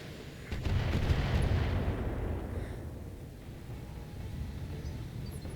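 Mech weapons in BattleTech fire in a heavy booming volley, a deep rolling blast that swells quickly and then fades into a low rumble.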